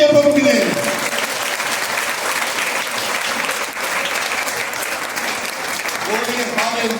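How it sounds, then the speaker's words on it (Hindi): A church congregation at a Sunday service claps loudly and steadily for several seconds, a dense wash of applause, with a voice heard briefly at the start and again near the end. "जोरदार ताली बजाइए प्रभु के लिए।"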